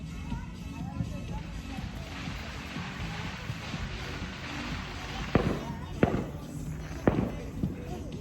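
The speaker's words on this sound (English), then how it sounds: "it's Fireworks." Fourth of July fireworks pop and crack outdoors, several sharp bursts rising over a constant crackling hiss, with people talking in the background.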